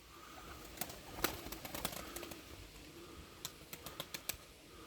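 Pigeons at an outdoor pigeon market flap their wings in a quick series of sharp, dry clatters, some bursts close together and others spaced apart, fairly faint over a soft background murmur.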